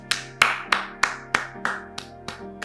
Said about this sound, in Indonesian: Tepuk tangan untuk Om Timothy Ray Brown.